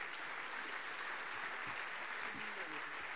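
Applause from the audience at a plenary round-table session on competitiveness, a dense, even wash of clapping holding steady throughout, with a voice faintly speaking underneath.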